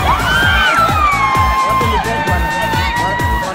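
Crowd cheering and whooping at the finish of a men's half marathon in Eldoret, Kenya, loud and continuous, with shouts rising over a steady roar and a rhythmic beat underneath.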